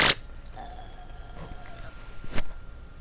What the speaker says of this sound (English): Alright, time for a burping.